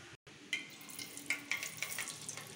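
Mustard seeds and cumin crackle in a pan of hot oil for tomato sambar, with scattered sharp pops and a steady light sizzle close by; no one speaks.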